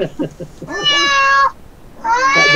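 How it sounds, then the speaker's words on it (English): A cat meows indoors, two drawn-out, clear meows close by, the first following a few moments of speech. "a cat in the house."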